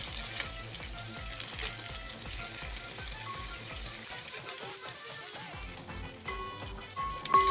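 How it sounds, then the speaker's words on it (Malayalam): Crushed ginger and garlic frying in hot oil for chicken fried rice, a soft continuous sizzle and crackle with occasional light stirring clicks, fairly quiet and close. "എണ്ണ നന്നായി ചൂടായതിന് ശേഷം കുറച്ച് ഇഞ്ചി വെളുത്തുള്ളി ഒന്ന് ചതച്ചെടുത്തിട്ടുണ്ട്."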